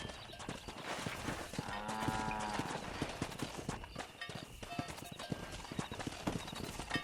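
Quick rhythmic clip-clop of horse hooves at a brisk pace while herding cows in Red Dead Redemption, with a brief whinny partway through and game voices over the hoofbeats.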